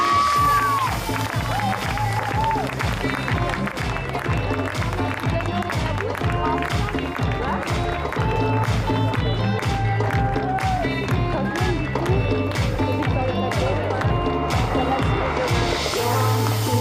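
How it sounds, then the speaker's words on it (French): A crowd at a French championship equestrian awards ceremony claps steadily for the coaches, a dense, continuous wash of applause with some cheering, while a voice over a PA talks throughout. "Je vous demanderai d'applaudir les coachs"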